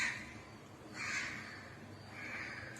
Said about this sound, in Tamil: அவ்வளோ உட்காந்துக்குங்க காக்காங்க அந்த மரத்துல.